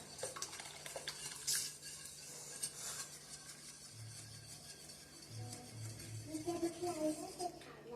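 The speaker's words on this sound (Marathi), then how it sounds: "हे करून घोटत राहायचं म्हणजे गडे धरणार नाही" A spoon scraping and stirring a mixture in a pot while making ambil, a traditional cooling drink, with soft clinks and rubbing strokes at close range, faint and intermittent with a low hum beneath.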